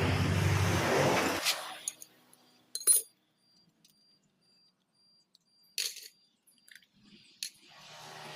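A motorcycle carburetor is taken apart by hand, with a louder broadband opening followed by sparse, close metallic clinks and taps of small parts and tools separated by near-silent pauses.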